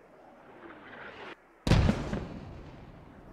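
Artillery fire in the Squad military shooter game: a steady rumble, a brief silence, then one loud, close, booming blast with a long decaying roar.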